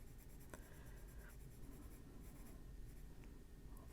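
A colored pencil shades and blends on a frog page in an adult coloring book, making a faint, close, continuous scratchy rubbing with a few sharper strokes and no talking.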